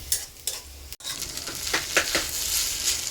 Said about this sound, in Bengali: আসুন, নুডলস বানাচ্ছি